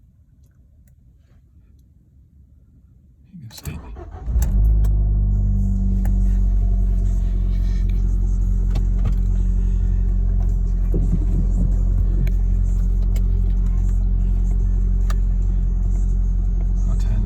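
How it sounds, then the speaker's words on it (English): An Abarth car engine cranks and catches after a few quiet seconds, then settles into a steady, loud idle rumble close by. "Right, so car starting up."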